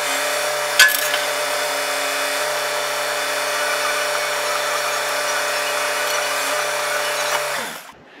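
A Bobcat E60 compact excavator used as a crane hums steadily at close range, a droning hydraulic whine with a brief clank near the start, holding constant before the engine note drops and stops at the end.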